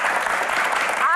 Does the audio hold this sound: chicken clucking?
no